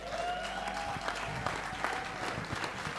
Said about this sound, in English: Come, clap now.